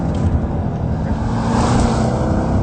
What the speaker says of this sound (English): Better still, the engine is absolutely brilliant. It's so much sharper than before. It just revs and it's properly angry.